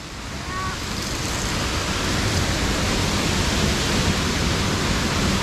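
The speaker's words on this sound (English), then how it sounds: "We are walking along the waterfall." A waterfall rushing beside a fixed rope climbing route in Austria, a loud, constant roar of falling water that holds steady throughout with no break.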